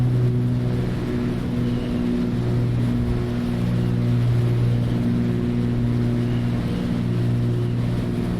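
Twin engines of a Cessna C310R at climb power in a flight simulator, a steady loud droning hum with constant low tones and no pauses, heard alone.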